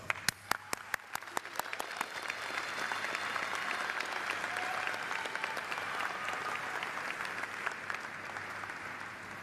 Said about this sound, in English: So let's give your loved ones a round of applause.